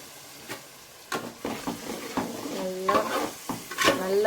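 Ground onion and garlic fry in a pan while a spoon stirs them, giving repeated scraping strokes and clinks over a steady sizzle, close and moderately loud, with no talking.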